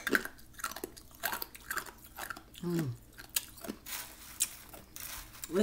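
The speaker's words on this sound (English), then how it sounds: "Listen to the crunch it give you." Close-up crunching and grinding of crushed ice being chewed, irregular bursts of crackly bites with short pauses, a brief voice sound in the middle.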